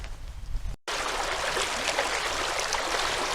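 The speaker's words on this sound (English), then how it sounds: "the river is flowing and it's eating away under the bank" River flowing past an undercut bank on a walk at Wolcott Mill, a steady soft rushing wash that fills the clip after a brief cut near the start, with no talk.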